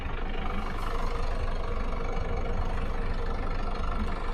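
A boat engine rumbles at a steady low idle on a Great Loop cruise, close and continuous with no speech over it.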